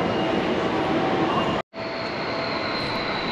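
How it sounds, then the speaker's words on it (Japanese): An express train bound for Hon-Kawagoe on the Shinjuku line pulls into a station platform in Saitama with a loud, continuous rushing roar and a faint high whine. The sound cuts out for a brief instant midway. "本川越行きの急行電車が入線してきましたので"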